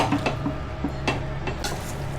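Veg pulao being stirred up from the bottom of a pot, a few scraping strokes with soft sizzling underneath, close and fairly loud with no talking.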